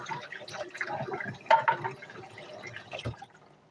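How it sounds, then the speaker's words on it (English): Faint water runs and drips from a kitchen tap while sticky hands are rinsed, with soft splashes and a few brief clunks at the sink. "Wash my hands, they got sticky."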